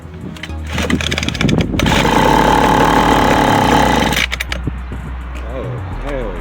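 A Homelite 26b two-stroke engine is pulled over, catches and roars loudly at high revs, then drops to a rougher, lower idle, all up close.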